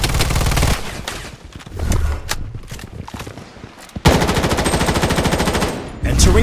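Loud bursts of rapid automatic gunfire in the Project Bloodstrike shooter video game, sharp repeated shots in clusters with brief gaps, rising into a sustained close volley near the end.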